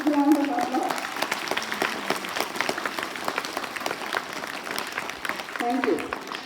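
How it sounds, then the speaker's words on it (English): An audience at a school foundation day program claps in a steady, dense wash of applause for primary teachers who just sang, with brief voices audible near the start and end. "Please, big round of applause."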